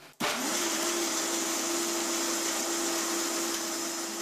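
A blender starts abruptly and whirs steadily as it blends raw almonds and dates into almond milk. The motor whine is constant and close, holds without a break, and no one talks.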